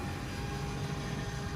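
A Boeing 727's number 3 engine begins its start sequence as a steady, broadband whine and rush of air. The sound holds at an even loudness with no talk over it.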